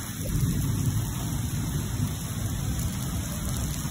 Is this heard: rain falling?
yes